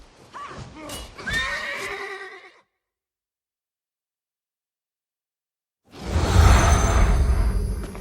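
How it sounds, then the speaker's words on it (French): Horses in the Elder Scrolls Online fantasy world whinny loudly in a rising, shaky neigh, go quiet for a few seconds, then a second horse's snorting, rumbling burst returns with hoof and movement noise, no one talking. "Venez, j'ai acheté des chevaux pour accélérer notre voyage."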